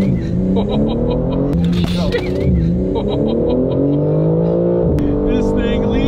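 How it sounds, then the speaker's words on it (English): An all-wheel-drive BMW M3 launching hard from a stoplight on a street, its engine note climbing steadily through the revs in a loud, continuous pull, interrupted briefly by a shift, with a voice speaking over it. "Floor the gas pedal. Preparing launch control."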